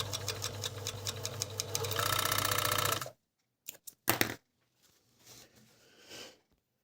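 A Juki MO-814 overlock sewing machine runs fast and loud for about three seconds with a rapid mechanical rattle as it stitches a seam. It stops abruptly, followed by a few quiet handling clicks and faint rustles.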